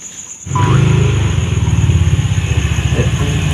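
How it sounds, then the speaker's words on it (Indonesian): A pizza delivery man's motorcycle arrives nearby with a loud engine drone that kicks in suddenly and then pulses rhythmically as it idles or moves slowly. "Dia itu motor nak."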